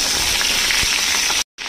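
Half a kilo of local pointed gourd (potol), slit open, frying in a pan, giving a steady broadband sizzle that holds loud and continuous before cutting out briefly near the end.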